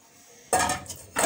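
A spoon scrapes and clatters against a bowl while shredded chicken, potatoes and fresh coriander are mixed, giving two short close bursts of clinking after a quiet start.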